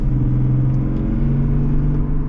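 Deep, steady rumble of the Duramax LZO diesel engine in a 2025 Chevy Tahoe High Country, held at a constant rev, loud and close throughout.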